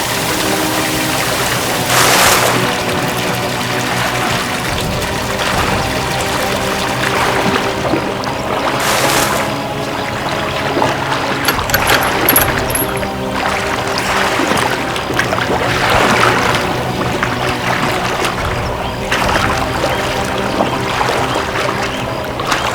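Steady, loud rush of running water pours continuously for over twenty seconds, a dense splashing wash with a few brief surges and no speech.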